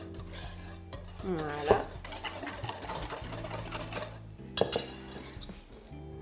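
Hot milk being whisked into egg yolks and sugar in a pan, a quick scraping and clinking of a metal whisk against the bowl, fairly faint, with a brief spoken word.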